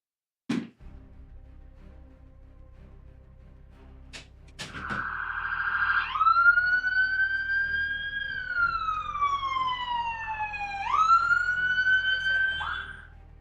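Sirens wail in the No Man's Sky video game, a loud electronic tone sweeping down and up in long rising and falling cycles after a few sharp clicks, persisting steadily near and prominent.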